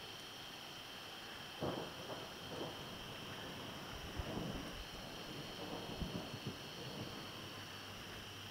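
Faint, steady rain hiss during a thunderstorm with occasional low thunder rumbles and soft thuds, distant and muffled under a constant background hum.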